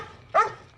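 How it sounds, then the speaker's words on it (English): A single sharp dog bark rings out in a Halloween film scene, brief and fairly close against a quiet background. "Only a barking dog calls him out."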